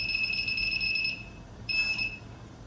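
A target interceptor device sounds its buzzer in two high, steady electronic tones, the first about a second long, then a short gap and a second shorter burst.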